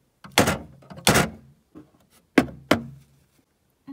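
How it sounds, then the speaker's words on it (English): A horse kicking open its stall door, heard as four heavy wooden thumps in two pairs, loud and close, with short pauses between. "Kick open your stall door"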